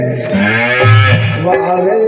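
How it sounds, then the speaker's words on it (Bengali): A cow lets out a long, drawn-out moo close by at night, low and wavering for a couple of seconds. "এই রাতের বেলা কার গরু হামলা ছে"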